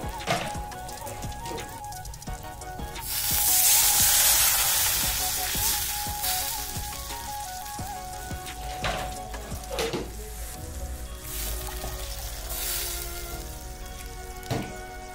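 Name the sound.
water poured into pan while cooking Maggi noodles, sizzling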